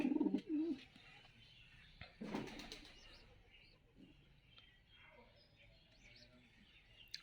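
Pet pigeons kept in a home coo. A couple of close, loud coos open the clip, then fainter bird sounds and light rustling follow.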